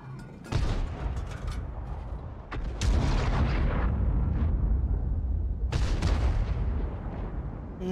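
Artillery fire in World of Tanks from a G.W. E 100 self-propelled gun on the Kloster map, with a deep booming shot followed by a rumbling tail and then further heavy blasts, loud and close.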